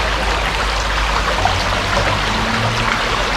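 River water rushes and pours around a gold sluice box set in a stream under a town bridge, a loud, close, continuous broadband gush with no talking.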